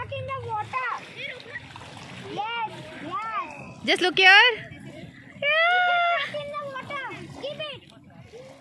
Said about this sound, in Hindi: Splash, splash the water.